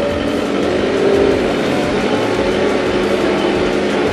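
A tractor works a grain corn field, its engine revving hard under throttle in a dense, continuous roar that swells briefly, then holds steady and loud.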